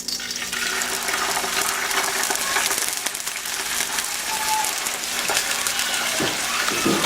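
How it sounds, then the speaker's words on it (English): Pork pieces going into hot oil flavoured with bay leaves, giving a continuous crackling sizzle with watery hissing and a few soft clinks, heard alone without talk. "And now I'm going to add my meat."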